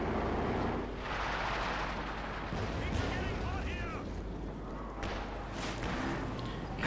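Rockets slam into a Panzer IV tank in the World War II strategy game Company of Heroes 2, heavy blasts and rumbling battle noise running steadily under a commentator's continuous talk.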